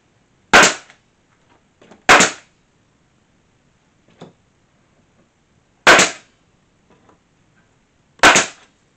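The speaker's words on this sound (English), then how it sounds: "It's nailing and nailing and nailing." Hammer blows drive nails into boards on a square archway: four sharp, loud strikes at uneven intervals with a faint tap between them and quiet pauses.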